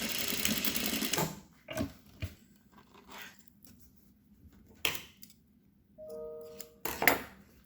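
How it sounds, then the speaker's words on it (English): A sewing machine stitching elastic runs in a short, rapid whirring burst, then after quiet handling noises whirs briefly again, close up. "I'm going to stitch my elastic to the edge of that casing through all lengths"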